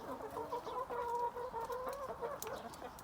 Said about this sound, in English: Because that chicken has had enough of being mauled.